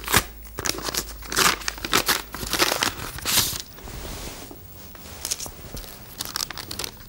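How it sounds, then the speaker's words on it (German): A packaged cantharidin plaster is unwrapped, with close, soft crinkling, tearing and rustling of the packaging in irregular bursts, quiet and with no talking. "Ich habe hier also ein Fertigpflaster der Firma Bock aus Gelsenkirchen."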